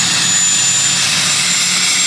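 A loud, steady high-pitched engine roar with a whining tone from a Mazda RX-7 FD sports car, sustained and close, like a powerful engine held at high revs.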